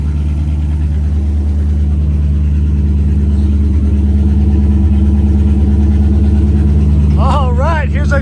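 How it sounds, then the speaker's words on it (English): V8 engine of a Pontiac Solstice kart running steadily in cold, wet weather, a loud continuous low rumble with a brief voice near the end. "So this is actually Lewis's first time driving with the V8."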